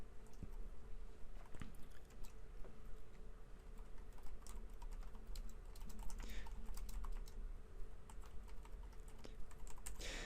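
Steady, close typing on a computer keyboard, with quick irregular key clicks and patter running continuously and no talk.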